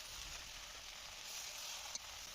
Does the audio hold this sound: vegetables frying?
yes